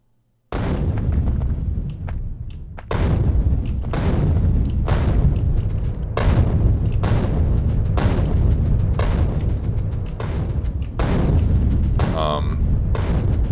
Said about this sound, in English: Let's use grenades.